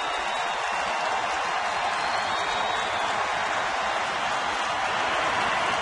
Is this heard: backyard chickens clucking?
no